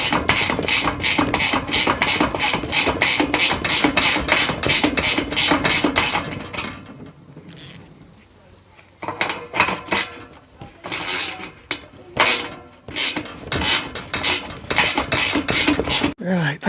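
A wrench slackens a nut on a Rolls-Royce Silver Spirit of Ecstasy mascot mechanism, giving a fast run of loud ratchet clicks, a brief pause, then bursts of irregular clicking nearby.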